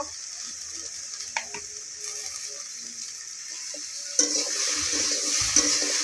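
Bitter gourd fries in a pan with turmeric, a quiet sizzle and occasional utensil scrapes at first, then a louder, denser hiss of frying as stirring picks up near the end.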